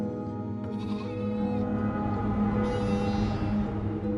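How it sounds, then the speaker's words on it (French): Ewes bleating in a flock of sheep, with a steady, full chorus of overlapping bleats that continues close by without pause. "Ulysse leur désigne les brebis rassemblées dans un coin. Elles ne cessent de bêler"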